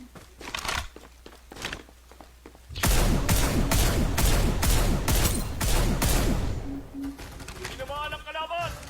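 Video game shootout with a rapid burst of gunfire, a dense run of repeated loud cracks lasting several seconds after quieter scattered shots, with brief voice sounds at the end.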